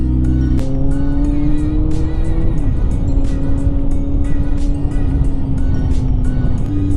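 Kawasaki Z900 inline-four motorcycle fitted with a slip-on exhaust, riding on a road trip, its steady droning engine note rising and easing continuously near and loud with wind rush and no talk.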